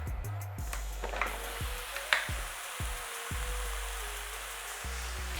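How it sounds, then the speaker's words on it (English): A kilo of ground beef hits a hot pan and fries with a soft, steady sizzle, broken by a few scraping knocks and taps of a utensil. "to the pan, we are going to add 1 kilo of ground beef"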